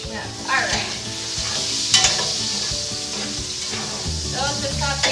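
Food sautés in a pan before garlic goes in for crispy garlic pasta, with a continuous close sizzle, scraping stir strokes and a sharp utensil clank midway.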